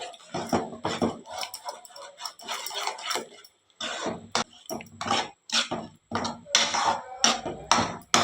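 A spoon scrapes and clinks against a cooking pot while ground coconut paste with chili and yogurt is stirred into okra curry, giving irregular close metallic knocks and scraping in short bursts.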